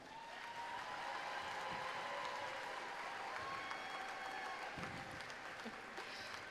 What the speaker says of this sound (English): let's just go ahead and give a big round of applause and thank the Boeing Company for their season sponsorship this year